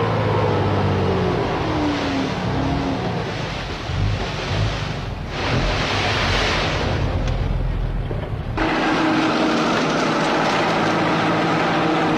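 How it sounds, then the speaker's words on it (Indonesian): A truck hauling laterite on a road under construction in Riau in the 1970s, a loud, continuous engine roar and rumble with shifting, revving tones and steady broadband noise throughout. "laterit diciduk dan diangkut dengan truk ke jalan yang sedang dikerjakan"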